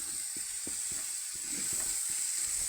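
Meat sizzles in hot oil in a frying pan, giving a faint steady hiss with scattered small pops and light clicks, no voices present.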